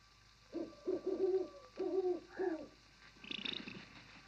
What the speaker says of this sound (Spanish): Un búho. Y muy grande, a juzgar por su voz.